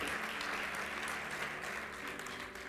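A church congregation applauds at a worship service, steady dense clapping from a large crowd held at an even level for the whole stretch.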